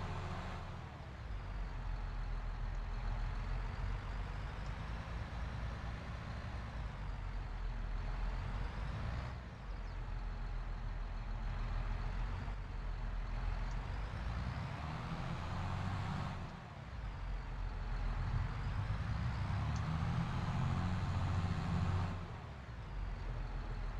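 A Scania lorry engine in the farming video game Farming Simulator 22 drones steadily at a low pitch, swelling and easing as it revs and shifts, a continuous moderate rumble with no talking.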